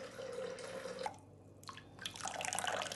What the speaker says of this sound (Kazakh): Әрі қарай ыстық су.